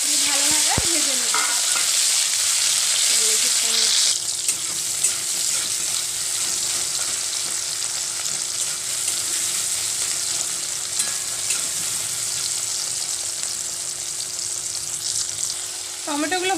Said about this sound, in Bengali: এবার দিচ্ছি দুটো চেরা কাঁচা লঙ্কা আর টমেটো কুচি দিয়ে ভালোভাবে ভেজে নেব